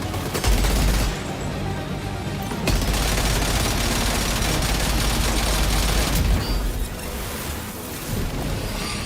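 Video game gunfire roars as a dense, continuous barrage of shots and blasts at high loudness, with no talking heard.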